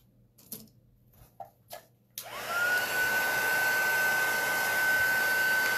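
A hair dryer switched on to dry the back of a freshly cleaned stencil, its steady whooshing hum and whine running continuously after a few light taps and handling knocks.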